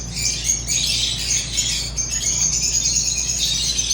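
Many lovebirds in an aviary colony squawk and chirp together in a shrill, continuous chorus, close and loud, with a faint low hum underneath.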